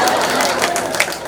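An audience at a Pongal celebration in Maykudi MuthuSamypuram applauds in a dense, steady patter of many hands clapping at once, moderately loud and without a break.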